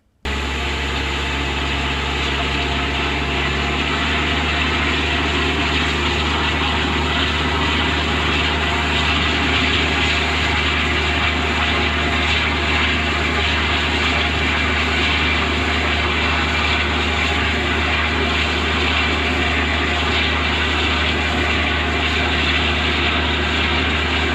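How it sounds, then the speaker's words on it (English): A sewer jetting machine jets a drain pipe, a loud and steady engine-driven drone with a constant low hum that carries on unbroken for over twenty seconds with no talk. "We're now going to jet the downstream pipe and see what's going on there."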